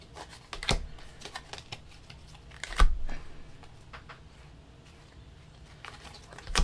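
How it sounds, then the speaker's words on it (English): Tarot cards shuffled by hand, quiet irregular riffles and flicks with a few sharper snaps spaced out across a near, soft background, no voice. "shuffling the cards and turning them different ways"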